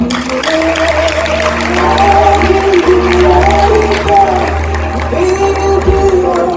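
A crowd at a wedding-style celebration bursts into sustained applause and cheering over live music, a dense, loud wash of clapping that holds steady throughout.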